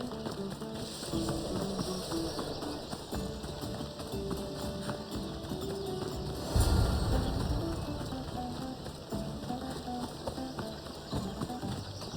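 Horses galloping in Assassin's Creed Odyssey during a race: steady clip-clop hoofbeats run throughout over a game music bed, with a louder thud midway and no speech.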